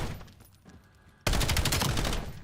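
Rapid gunfire from a shooter video game erupts abruptly halfway through, a loud sustained burst of automatic shots following a quieter stretch of background game noise.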